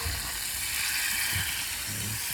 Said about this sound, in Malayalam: നല്ല നെയ്യിൽ വേവിച്ചെടുത്ത നെയ്മീനാണ് ഈ കിടന്ന് സെറ്റാവുന്നത്.